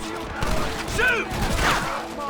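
Gunfire in the Red Dead Redemption video game, a dense battle of repeated shots with shouted voices over a noisy outdoor fight.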